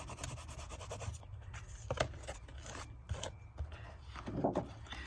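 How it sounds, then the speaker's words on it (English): Dried masking fluid rubbed off watercolour paper with a fingertip gives soft, dry scratchy rubbing strokes in irregular short bursts, close and fairly quiet, with a few louder scrapes near the end. "And I just rub off the drawing gum."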